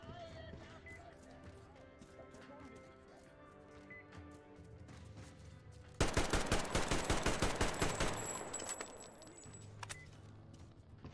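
Rapid automatic gunfire from the Metro Exodus video game, a loud burst of several seconds of fast repeated shots, preceded and followed by quieter ambient game sounds, with someone speaking faintly.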